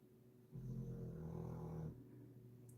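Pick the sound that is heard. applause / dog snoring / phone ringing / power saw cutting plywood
dog snoring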